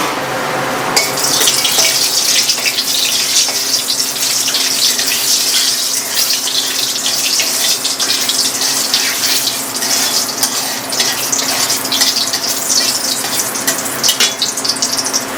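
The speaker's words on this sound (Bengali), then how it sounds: "এখন তেজপাতা দিয়ে দিলাম।" Bay leaves drop into hot cooking oil, setting off a sudden bright, loud sizzle that keeps hissing steadily at close range.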